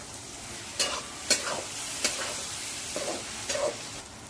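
Green chillies and tomato are sautéed in ghee in a pan for a raw turmeric vegetable dish. A spatula scrapes and stirs in several distinct strokes over a soft, steady sizzle, close up.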